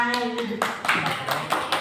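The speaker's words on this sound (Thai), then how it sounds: "ขอเสียงปรบมือต้อนรับสองสาวสวยเรา" An audience claps to welcome two women at a gathering. Someone speaks briefly before a burst of quick, close hand claps that continues to the end.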